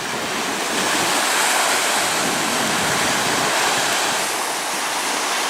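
Steady roar of Lake Superior surf washing onto the shore at Pictured Rocks, Michigan, continuous and fairly loud with a windy hiss over it, no voices.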